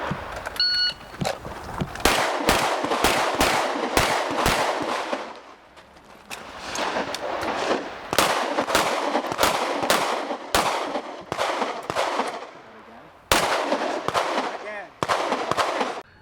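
Rapid pistol gunfire at an outdoor IPSC practical shooting match stage at Kokohead, with quick strings of loud, sharp shots separated by brief pauses while the shooter moves between two shooting boxes and two sets of targets.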